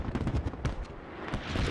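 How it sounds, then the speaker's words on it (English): Russian smoke mortar fire during a Squad operation comes as a quick series of sharp, cracking blasts, dense at first and then more spaced, with no talk over them. "That's Russian smoke mortar."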